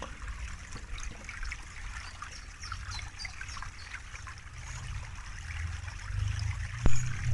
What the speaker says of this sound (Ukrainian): давайте послухаємо, як дзюркотить струмочок